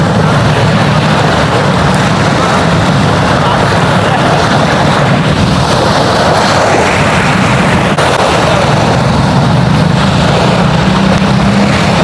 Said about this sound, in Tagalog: Ganda, tingnan lang alon dito guys